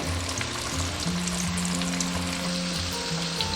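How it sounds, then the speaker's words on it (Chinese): Shrimp deep-fry in hot oil over medium-low heat, a dense, steady bubbling sizzle that stays close and loud throughout with faint tonal hums underneath; no speech. "我们就可以下入虾仁，中小火炸"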